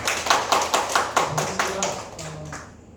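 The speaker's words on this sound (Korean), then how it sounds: "공은지 작가께 다시 한번 박수를 드립니다" A small audience at an arts academy talk with author Gong Eun-ji gives sparse applause, with distinct individual claps in an uneven rhythm that thins out and fades within a few seconds.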